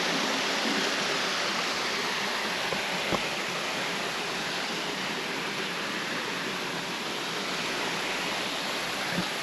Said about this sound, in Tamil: கீழே தண்ணி போகுது